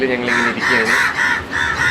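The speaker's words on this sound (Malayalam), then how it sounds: "കാക്ക കരയുന്നതൊക്കെ സ്വാഭാവികമാണ്, വ്ളോഗിൽ അതൊക്കെ വരാം." Crows caw loudly and repeatedly close by in a Kerala home setting, harsh calls running over a person speaking.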